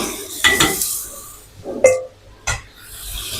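Mee goreng noodles and vegetables stirred in a pan, heard as a few separate scraping, clinking strokes of a utensil against metal with short quiet gaps between them.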